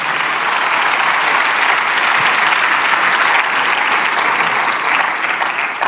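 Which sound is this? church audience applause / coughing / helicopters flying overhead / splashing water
church audience applause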